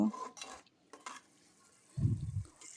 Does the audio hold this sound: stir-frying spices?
yes